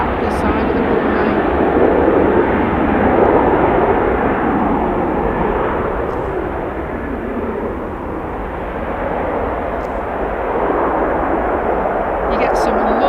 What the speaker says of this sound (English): You get some lovely engine noise from this vantage point.